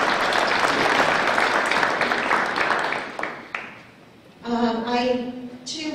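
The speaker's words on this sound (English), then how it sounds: "So please give them a round of applause." An audience at a public planning workshop in Mill Valley, California applauds for a few seconds, then the clapping fades to near quiet before a person begins speaking.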